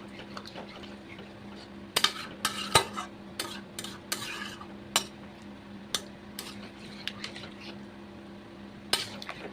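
Yogurt-marinated chicken bhuna being stirred in a pan over lowered gas, with scattered spoon scrapes and clinks against the metal over a steady low hum and faint sizzle.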